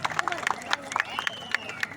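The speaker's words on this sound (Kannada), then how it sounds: "ಒಂದು ಜೋರು ಚಪ್ಪಾಳೆ ತಟ್ಟಿ ನರೇಂದ್ರ ಮೋದಿಜಿ ಅವರು" A crowd at a public welcome for Narendra Modi in Shikaripura claps in quick, uneven bursts, sharp hand smacks close together over a steady murmur of talk.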